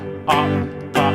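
Two bright strummed guitar chords separated by a short rest, each ringing briefly before the next stroke.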